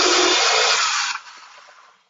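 Vitamix blender whirring through garlic, peppers and cucumbers for gazpacho, a loud steady motor roar that drops in pitch and then winds down to quiet.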